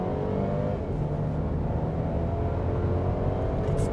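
A 2016–2017 Mercedes-Benz GLC accelerates at full throttle in Sport Plus mode, giving a steady, loud engine and road roar heard from inside the cabin, with no talking.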